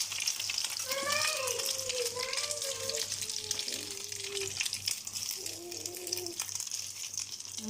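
Two slices of French toast sizzling in a pan, a steady crackling fry beneath lively chatter from children and an adult talking throughout.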